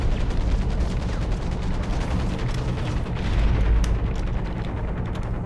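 Mech weapons firing in the game Hawken, a dense, loud barrage of booming shots and blasts rolling continuously with no voices.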